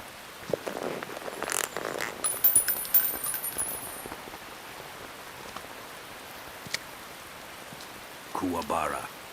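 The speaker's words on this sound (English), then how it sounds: "You can entertain me until the rain stops." Rain falls in Metal Gear Solid 3: Snake Eater as a constant soft hiss, with brief rustling and a few sharper clicks, while voices speak over it at the start and near the end.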